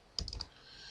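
Keys on a computer keyboard typing a command, three or four quick soft clicks close by in a brief burst, then a faint steady hiss.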